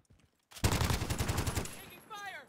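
Rapid automatic gunfire in Call of Duty Warzone, a dense burst of loud close shots lasting over a second, then fading, with a voice shouting briefly at the end.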